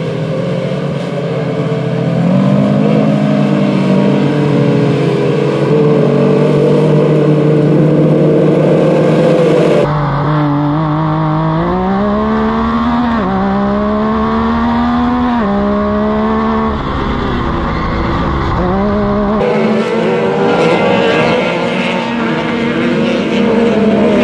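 Off-road Jeeps race around the Muskingum County Speedway short course, several engines revving loudly and continuously with rising and falling pitch as they accelerate, shift and pass close by, filling the whole stretch without talk.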